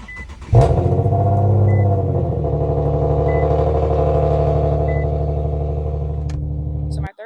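An Infiniti Q50 with the 3.7 engine blips sharply into a rev, then settles into a loud, steady, throaty drone for several seconds before cutting off abruptly. No one speaks over it.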